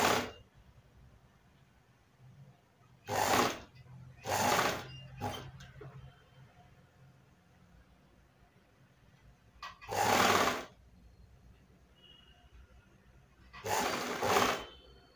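Short bursts of a sewing machine stitching fabric, four or five separate runs of a few seconds each with quiet pauses between, close by and fairly soft.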